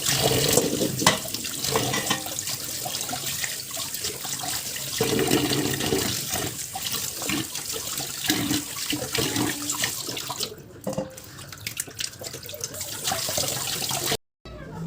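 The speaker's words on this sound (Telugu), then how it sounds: "మళ్ళీ అందులో వాటర్ పోసి నీట్గా అదంతా వదిలి నీచు వాసన పోయే వరకు కలపాలండి" Water splashes and sloshes continuously as fish pieces are rinsed in a bowl for an Andhra-style fish curry, with stirring, clattering and pouring close up throughout.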